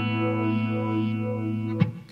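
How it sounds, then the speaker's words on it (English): A Source Audio Lunar Phaser pedal on a Stingray multi-peak preset with LFO modulation colours a sustained, steady guitar chord with sweeping, distorted tone, ending in a brief pluck near the end. "my first preset is a Stingray multi-peak running through an LFO"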